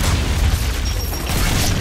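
A frag grenade explosion in the video game Gears 5 gives a loud, deep boom that rumbles steadily through a short stretch without talk.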